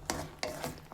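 A spoon rasps and scrapes as fried spice mix is stirred into a jujube (kul) chutney, three or four short strokes close by, no talking.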